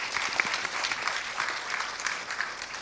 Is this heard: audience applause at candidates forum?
yes